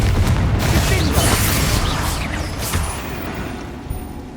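Confringo explosion spell bursting in Hogwarts Legacy, a loud, rumbling blast that fills the clip from the start and slowly fades over a few seconds.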